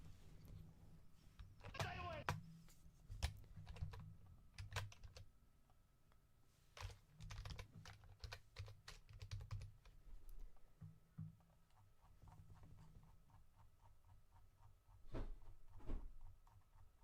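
Computer keyboard keys and mouse buttons click in scattered quick bursts, faint and close, with quiet gaps between runs of taps.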